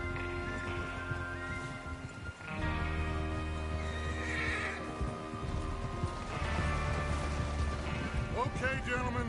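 Horses in the Western video game Red Dead Redemption 2 whinny and neigh repeatedly amid game music and clopping hooves, with a voice speaking over the scene.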